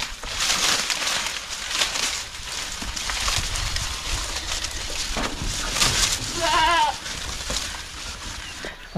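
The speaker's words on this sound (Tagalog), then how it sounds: "kahit may mga kambing dito" Goats bleat at a Philippine farmyard, with one short quavering call standing out above steady rustling, rain-like background noise.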